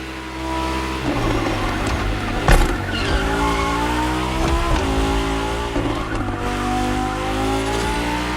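A Lamborghini and a Ferrari race in the video game The Crew Motorfest, engines revving loudly with climbing and shifting tones, punctuated by tyre squeal and brief impacts, close and continuous.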